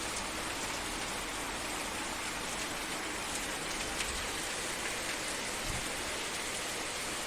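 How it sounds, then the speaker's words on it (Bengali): Heavy rain pours down in a dense, steady roar that stays loud and even throughout, with no voices. "দারুণ বৃষ্টি পড়ছে।"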